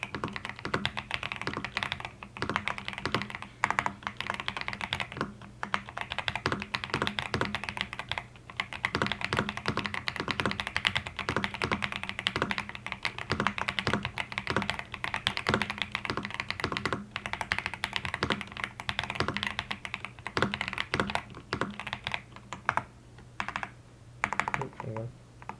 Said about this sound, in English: So here is typing.